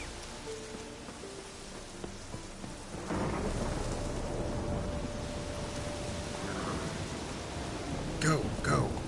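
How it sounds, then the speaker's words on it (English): A thunderstorm in The Witcher 3 video game brings steady heavy rain with a rolling rumble of thunder that swells after a few seconds, ending with a couple of sharper cracks; a voice speaks faintly beneath. "The storm, damn it."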